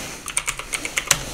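Keys on a computer keyboard clack in a quick irregular string of about eight crisp taps, near and fairly quiet, the last press landing hardest, with no talking.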